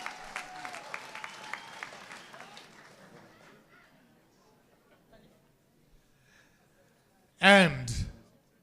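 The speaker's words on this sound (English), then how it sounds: "Give them all a round of applause." Audience at a provincial excellence awards ceremony gives a short burst of applause, fairly loud and close, following earlier talk that fades into quiet.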